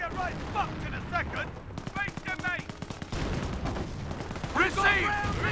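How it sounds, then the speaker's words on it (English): Mortar barrage in the Company of Heroes World War II strategy game, aimed at an emplacement: a rapid run of sharp gunfire-like cracks and booms mixed with battle noise, with game voices calling out over the top. "Looks like just regular mortar barrage trying to hit that vigorous emplacement"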